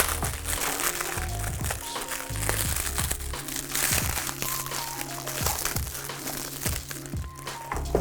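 Plastic packaging around a repaired car seat belt is crinkled and torn open by hand, with steady close crackling and crunching and a few sharp snaps.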